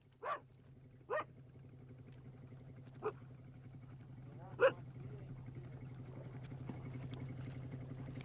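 Several sled dogs in Greenland barking outdoors in separate single yelps, a few seconds apart, somewhat distant over a low steady hum.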